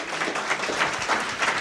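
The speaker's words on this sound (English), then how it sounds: "Let's give him another round of applause." Scattered applause from a business community gathering in Kingwood, fairly faint and brief with uneven pulses of clapping.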